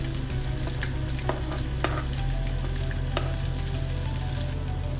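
Onions sizzling loudly in hot oil with a constant close-up crackle and a few scattered scrapes of a spoon stirring.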